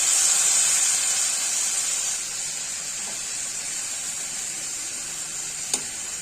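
Ground garlic frying in oil beside a catla fish head with jackfruit, a loud, even hiss and sizzle that softens slightly midway, with one faint clink near the end.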